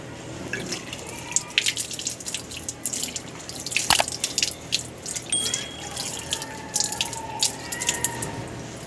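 Water trickles and drips steadily from a running tap into a sink during wudu ablution while the nose is rinsed, with close splashes and irregular drops over several seconds and no talking.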